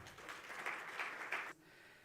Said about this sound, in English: Bigger round of applause, please.